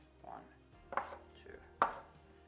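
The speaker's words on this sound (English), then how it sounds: "From here, we're going to chop it into smaller portions." A knife chops rolled dough for vegan jackfruit bao buns into smaller portions: two crisp, close thuds on a board about a second apart, with a faint earlier tap and quiet room tone between.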